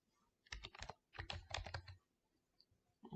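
Keys tapped on a computer keyboard in two quick, close bursts of clicks, separated by a short pause, with a few more keystrokes at the end; soft and with no other sound.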